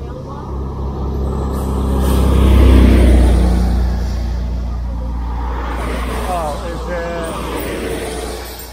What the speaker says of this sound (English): we could hear the busy traffic that ran parallel to the trail